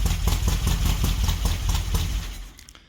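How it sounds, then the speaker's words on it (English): A 1969 VW Baja Bug air-cooled engine with an EMPI two-barrel carburetor swap idles roughly on three cylinders, a loud, close, lumpy pulsing chug that fades as it is shut off. "now we know what the bug would sound like if it was a 3-cylinder"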